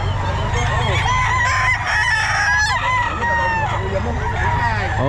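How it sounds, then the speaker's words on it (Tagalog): Roosters crow repeatedly over a dense, constant din of clucking chickens at a pet market in Bocaue, loud and crowded, with a faint voice now and then. "ang daming manok"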